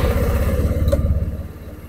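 Kymco Dink Street scooter engine idling steadily close by after starting, a low even putter with a brief higher blip near the middle, no voices.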